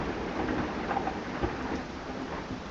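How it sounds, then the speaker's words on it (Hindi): Thunderstorm with steady rain pouring down and a low rumble of thunder, a continuous soft wash of rainfall with no voices. "उसने पहाड़ों और नदियों को ढकते हुए बारिश बरसाई।"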